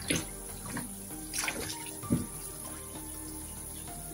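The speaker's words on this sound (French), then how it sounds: "là maintenant l'eau ça suit, l'évacuation suit le débit, le débit du robinet, donc le bac de douche ne se remplit plus" Tap water runs steadily into a shower tray and drains freely through a cleared shower drain, a continuous close splashing with gurgles and drips rising and falling, no voices.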